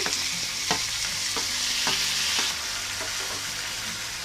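Vegetables and curry leaves lightly frying in a pan, a dense hiss of sizzling oil broken by regular spatula strokes and scrapes, close and fairly loud, no voices.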